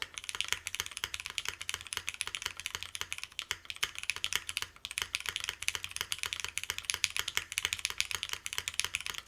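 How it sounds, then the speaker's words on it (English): Steady rapid typing on a 60% mechanical keyboard, with crisp clicky keystrokes and occasional deeper spacebar thocks, close up and uninterrupted. "I feel like the spacebar sounds different now"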